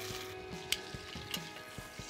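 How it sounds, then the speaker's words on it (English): A seasoned leg of lamb sears in olive oil in a hot pan, giving a steady close sizzle broken by a few sharp crackles and pops. "Lamb's got a nice sear to it"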